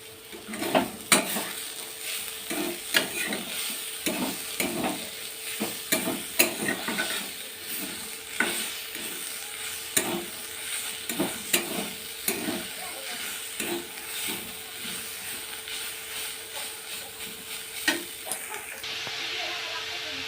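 Greens and dried shrimp fry in a pan at low volume, with a soft continuous sizzle broken by repeated clinks and scrapes from stirring at an irregular pace.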